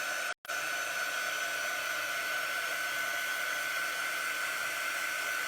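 A hair dryer runs steadily to dry chalk paste, a constant close whirring hiss with a high whine, cut off only by a split-second pause near the start.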